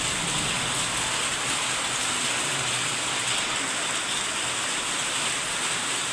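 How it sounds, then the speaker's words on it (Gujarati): Heavy rain pours down in a steady, dense roar, even and unbroken throughout, with no voices over it. "વરસાદ બહુ છે અહીંયા ભાઈ."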